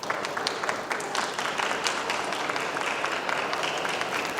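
Welcoming applause for a speaker at a P3CRN 2024 infrastructure governance conference, a moderate, fairly distant patter of many hands clapping steadily throughout with faint crowd murmur beneath.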